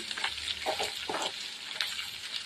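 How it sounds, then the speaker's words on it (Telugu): Sliced onions fry in hot oil for gongura curry, a steady close sizzle running throughout with a few soft scrapes and clinks as they are stirred in the pan. "ఉల్లిపాయలు వేసుకుందాం ఇది బాగా కలుపుకుందాం ఫ్రెండ్స్ ఎర్రగా వచ్చినంత వరకు వేసుకోవాలి ఉల్లిపాయల్ని"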